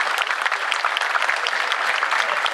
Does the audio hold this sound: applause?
yes